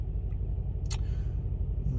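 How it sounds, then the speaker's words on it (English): A car drives along at 5 a.m., heard from inside the cabin as a steady low road rumble and engine drone, with a brief higher scrape or rustle partway through. "now we're in our car and we're on the way to the gym at 5 a.m."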